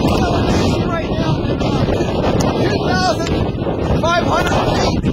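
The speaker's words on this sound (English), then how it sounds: "there's nothing obstructing the wind as it comes out of the west" Strong west wind batters the microphone on an exposed summit at about 2,500 feet, a loud continuous roar with gusty swells throughout.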